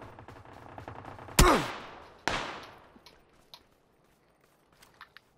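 Two sharp, loud gunshots ring out in PUBG, echoing as they fade, followed by faint distant shots and quiet clicks.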